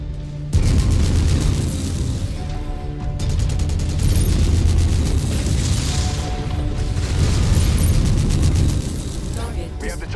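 A mech blows apart in the Mechwarrior 5: Mercenaries video game: a sustained, loud booming roar of explosions and rumbling blasts that fills the whole stretch, with crackling bursts layered over a heavy low rumble.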